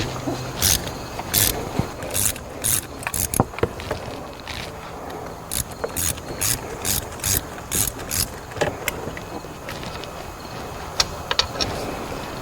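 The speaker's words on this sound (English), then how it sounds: "So now I'm undoing the last bolt for this throttle body." Ratchet wrench undoing a throttle body bolt on an Audi Q7 3.0L engine, close sharp clicking strokes in repeated bursts with short pauses between them, no talk.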